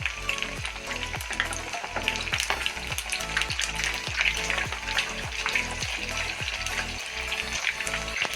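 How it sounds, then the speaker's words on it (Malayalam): Snacks deep-frying in a pan of oil, a continuous loud bubbling sizzle with steady crackle running throughout and no voices. "അങ്ങനത്തെ സ്നാക്സ് നന്നായിട്ട് ഫ്രൈ ആയി ഞാൻ അതെടുക്കാൻ പോവാം"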